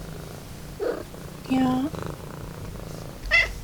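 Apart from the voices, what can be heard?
cat meowing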